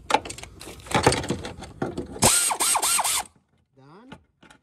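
A socket wrench fitted with an extension ratchets a starter bolt in rapid, close clicking bursts, followed by a brief whirring spin; no speech over the clicks.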